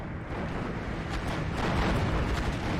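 A bomb bursts in the Steel Division 2 game, with a sustained, dense rumbling roar of explosion and artillery-like blasts that grows slightly louder toward the end, heard alone without talk.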